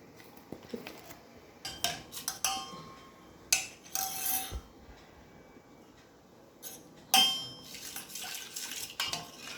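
A spoon clinks and scrapes against a steel vessel while custard powder is stirred into cold milk, in irregular bursts of sharp metallic taps and scraping with quiet gaps between, close by and without talk.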